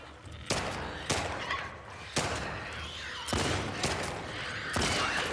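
Repeated gunfire from a firefight in The Last of Us Part II, sharp loud shots spaced roughly a second apart over a rumbling ambient background.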